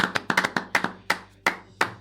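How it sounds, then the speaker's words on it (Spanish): A few pairs of hands clap sharply and unevenly, close and distinct, with brief pauses between bursts of several claps. "Merece aplauso, merece aplauso."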